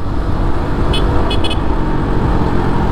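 A TVS XL-100 Premium moped horn beeps in a few short toots, one single then a quick double, over the steady rumble of nearby road traffic and idling engines.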